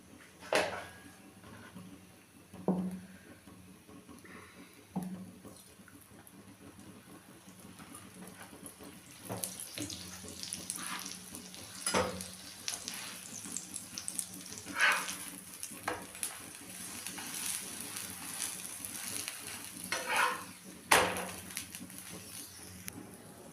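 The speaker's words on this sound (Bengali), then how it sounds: "তো এই পিঠ করে আমি একটু তেল দিয়ে ভেজে নেব।" A vegetable paratha fries in a little oil on a flat pan, giving a soft, steady sizzle that grows busier partway through, with occasional scraping or turning sounds up close.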